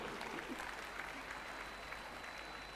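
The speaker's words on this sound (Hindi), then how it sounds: "एक बार जोरदार तालियां बाबा रामदेव के लिए।" A crowd at a yoga gathering applauds Baba Ramdev in a dense, continuous wash of clapping, faint and distant, with a low steady hum underneath throughout.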